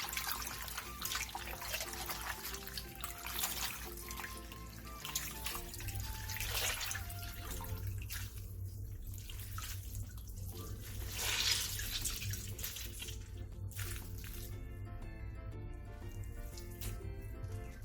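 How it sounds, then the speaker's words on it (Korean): Cold water runs steadily from a kitchen tap while blanched seaweed is rinsed in a sink, with soft trickling, splashing and occasional drips at low level throughout and no voices. "데친 미역은 바로 찬물에 2번 정도 헹궈낸 뒤 물기를 최대한 꼭 짜주세요."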